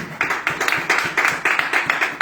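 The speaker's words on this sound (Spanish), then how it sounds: "Den un aplauso al Señor, que Él se lo merece." A church congregation applauds together in a steady, regular rhythm of loud, unison claps at roughly three to four beats per second, with no other sound.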